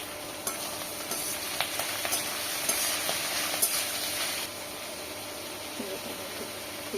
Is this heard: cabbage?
yes